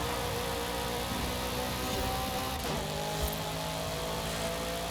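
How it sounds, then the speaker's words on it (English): McLaren Sabre supercar engine in Forza Horizon 5, a steady loud droning roar with layered tonal harmonics holding throughout, close and continuous with no talking. "It's just a weird sounding engine,"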